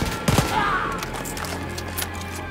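Wolfenstein Youngblood gunfire: a close cluster of sharp shots early on, then scattered cracks and rattling bursts over a rumbling battle background.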